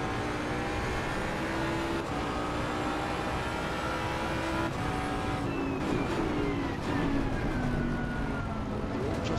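Jaguar race car engine droning steadily during a dusk-to-night race at Paul Ricard, a sustained in-car tone rising and falling gently with throttle, loud and continuous throughout.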